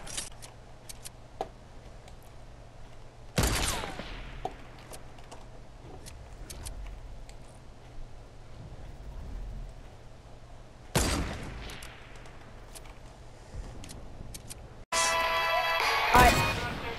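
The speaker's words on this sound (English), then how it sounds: "With the deagle, I just headshot him from here." Desert Eagle pistol shots in Fortnite, two sharp isolated cracks several seconds apart against quiet game ambience, followed by a burst of louder clattering action at the end.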